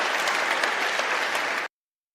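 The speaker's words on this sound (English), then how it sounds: "the applause and the whooping in this particular section" A shareholder meeting crowd applauds loudly, a dense, even roar of clapping and cheering that holds steady, then cuts off abruptly into silence.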